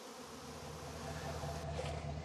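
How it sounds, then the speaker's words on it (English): Honey bees from a truckload of hives and nucs buzz with a steady, faint droning hum, rising slightly in loudness toward the end. "I got a truckload of bees here."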